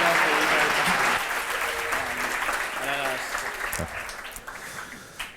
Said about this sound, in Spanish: espero que sepamos todos agradecer y darle un gran aplauso de bienvenida a Carlos Pacheco.